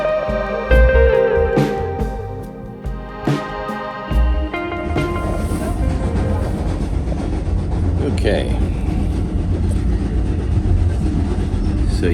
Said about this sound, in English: So you might be wondering why I'm here on a train, heading to parts unknown.